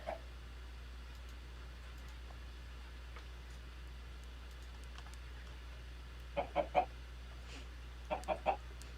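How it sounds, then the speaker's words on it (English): Chickens cluck faintly in two short bursts of three quick clucks each, late in the stretch, over a steady low background hum with no talking. "We have chickens around here."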